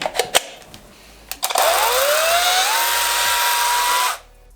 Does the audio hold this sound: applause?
no